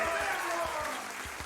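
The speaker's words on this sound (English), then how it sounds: "We clap every time." A few people clap in a quick, irregular patter, close and moderately loud, with voices talking over it.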